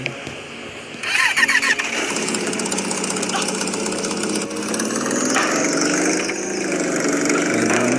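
A Honda motorcycle engine in a video game cranks and catches, then revs and settles into a steady close-up drone with rising pitch shifts.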